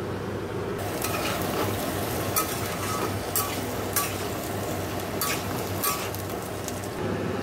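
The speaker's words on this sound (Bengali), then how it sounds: "তো চলো ডুমুরটা আগে ভেজে নিই।" Figs (dumur) frying in oil in a pan give off a steady close sizzle, with occasional sharp clinks of stirring at irregular intervals.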